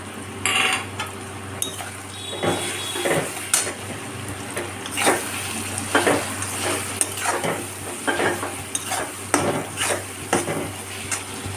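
Turmeric, Kashmiri chilli and meat masala frying in oil for a mutton dish, a low sizzle under repeated sharp scrapes and clinks of a spoon against the pan, irregular and close.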